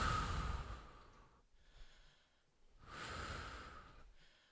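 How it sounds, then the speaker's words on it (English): During a Pilates reformer jump workout, someone takes strong inhales through the nose and strong exhales through the mouth. Two long, airy, close breaths are heard with a quiet pause between them. "Big inhales through the nose, nice strong exhales through the mouth"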